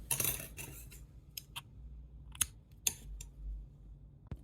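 Scissors snip crochet thread up close, a few faint, sharp metallic clicks and snips in an otherwise quiet room.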